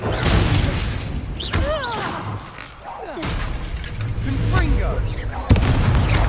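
Fire-blast spell effects in a Hogwarts wizarding video game duel, a dense roar of whooshing bursts, booms and shattering crashes rising and falling, with short swooping magical sweeps and a sharp impact near the end.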